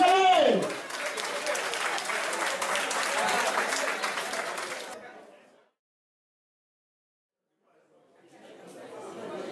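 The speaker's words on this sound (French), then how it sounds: "nos charmantes filles, applaudissez-les!" Audience applause for performing girls and an orchestra at a Senegalese political party gathering, a loud crowd clapping with chatter that fades into silence, then rises faintly again at the end.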